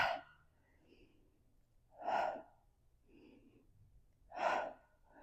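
Two sharp, close exhalations stand out about two seconds apart during a mat Pilates exercise, with softer breaths between them in an otherwise quiet room.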